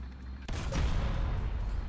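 Gunfire from a KV-1 tank in War Thunder: a sharp, loud blast after a quiet moment, followed by a rumbling, crackling burst that lingers to the end.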